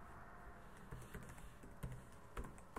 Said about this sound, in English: Let me just type the camera IP here